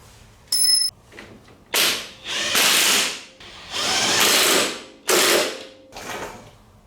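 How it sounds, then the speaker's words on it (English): Ratchet wrench tightening bolts on the rear axle of a 2004 Yamaha Grizzly ATV, in several rapid clicking bursts of one to two seconds each, separated by short pauses, with a brief metallic clink at the start. "Now we're going to tighten these up."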